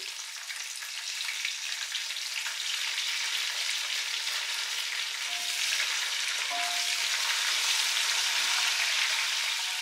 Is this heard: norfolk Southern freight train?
no